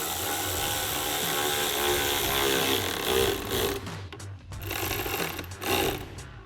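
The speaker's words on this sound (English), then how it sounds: "tighten those down with our 4 millimeter Allen socket on our ratchet." Ratchet fitted with a 4 mm Allen socket tightening bolts on a Ford F-150 cold air intake, a series of close clicking and rasping mechanical strokes over a steady background hum, with no one talking.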